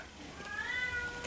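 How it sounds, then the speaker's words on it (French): A single drawn-out meow from a cat in heat, fairly faint against a soft background hiss. "C'est mon chat qui est en chaleur"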